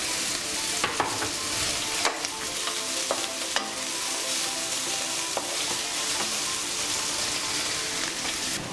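Chopped onions and green chillies fry in a pan, a steady close sizzle broken by occasional sharp clinks and scrapes of a spoon stirring.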